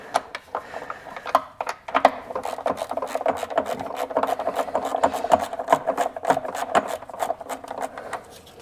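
A rotary ratchet with a 14mm socket works an engine bolt on a Bennche Spire 800, giving a dense run of quick metallic clicks and rasping turns, close and fairly loud, with short pauses.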